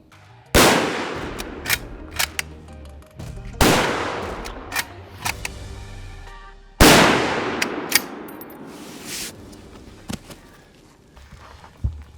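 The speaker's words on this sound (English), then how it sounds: "Pull it into the pocket, straight, acquire your target," Three loud rifle gunshots ring out about three seconds apart at close range, each a sharp blast with a decaying echo, followed by lighter clicks and clanks of handling between shots.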